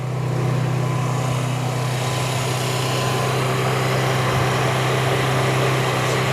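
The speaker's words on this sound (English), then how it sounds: "Let's start this thing and let's hear it run." A carbureted Genuine Buddy 125 scooter engine without choke or enricher runs steadily up close, a continuous loud idle hum with a constant drone throughout.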